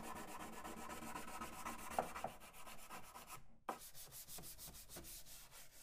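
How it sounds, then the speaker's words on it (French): Wood furniture being sanded by hand, a steady back-and-forth rasping scrape that runs for several seconds with a few brief pauses and sharper strokes, close and continuous. "Vous ne devrez poncer que très légèrement par la suite."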